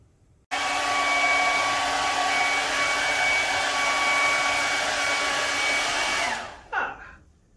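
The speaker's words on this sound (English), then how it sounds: "here I have a hairdryer, and it has different settings on the side" A hair dryer switches on abruptly and blows with a steady, loud whooshing roar and a constant motor whine for about six seconds, then cuts off and winds down, followed by a brief clatter.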